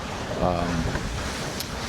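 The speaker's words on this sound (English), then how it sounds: "79 degrees and it's very windy" Strong wind buffets a boat ride in Florida, a steady roaring rush over water with a person talking briefly beneath it.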